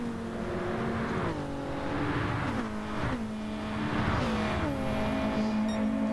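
Race car engines from a racing video game at Monza, with a Nissan GT-R among the field, sustained loud whine rising and falling through gear changes, steady and close with no talk.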